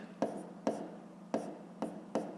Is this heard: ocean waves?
no